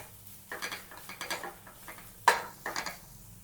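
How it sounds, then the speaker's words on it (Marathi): Chopped cabbage and mixed vegetables for a veg frankie are stirred in a pan, with a quiet series of spatula scrapes and clinks in an uneven rhythm, one sharper knock midway, and no voices. "आता ह्या भाज्या छान परतायच्यात आपल्याला, पण खूप अशा शिजवायच्या नाही आहेत, फक्त हलक्याशा परतून घ्यायच्यात"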